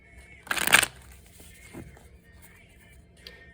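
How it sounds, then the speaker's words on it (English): A tarot card deck is shuffled once in a quick, crisp riffle burst lasting under half a second, followed by near silence with faint small handling sounds. "I'm going to shuffle the first deck a couple more times and split the deck"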